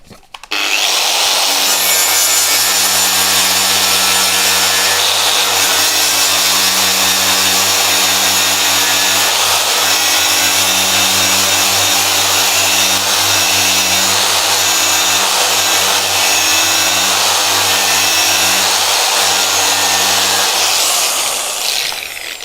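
A Tyrolit SCM abrasive surface-conditioning tool grinds away a steel weld seam, a loud, continuous whirring drone with a harsh abrasive rasp that holds steady for about twenty seconds before stopping, with no talking.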